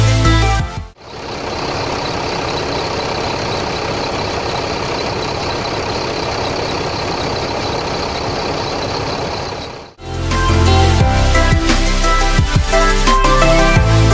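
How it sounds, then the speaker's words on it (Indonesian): A Mercedes-Benz OH 1626 bus engine runs steadily at a bus terminal in Lhokseumawe, a loud continuous idle that holds for about nine seconds between two brief cuts of other noise. "Karena saat direkam bus ini sedang menghidupkan mesin, mari kita dengar keindahan suara mesinnya."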